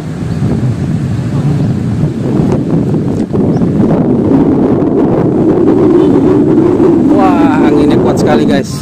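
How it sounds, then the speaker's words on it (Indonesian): Strong wind buffeting the microphone during an SG906 Max Pro 3 drone flight over a city, a loud, constant low roar with a voice speaking over it near the end. "Wah, anginnya kuat sekali"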